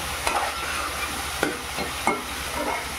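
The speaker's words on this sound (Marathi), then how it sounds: "हा आपला टोमॅटो शिजत आलाय, शिजला।" Tomatoes cooking down in a pan for a fish curry masala give a continuous close sizzle, broken by three short scrapes of a stirring spoon; no voices.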